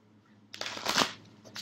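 Angel Tarot cards are shuffled by hand in a quiet room. A soft riffling burst builds to a brief peak and then tapers off, close and moderately loud with no talking.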